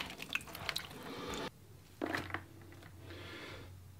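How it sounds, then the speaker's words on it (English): Apple rings splash and swirl in a bowl of citric acid water, giving a burst of liquid sloshing, a pause, then a second short splash and gentle trickling. "we drop those rings into our citric acid and water, give them a good swirl around"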